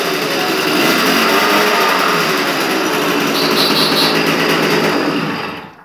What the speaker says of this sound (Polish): jak widać pięknie chodzi, zapłon pięknie jest wyregulowany, na obroty się bardzo fajnie wkręca